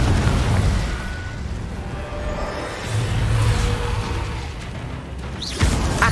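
The Confringo explosion spell in the video game Hogwarts Legacy produces a loud, deep rumbling blast that rolls on for several seconds, swelling again midway and ending with a sharp burst.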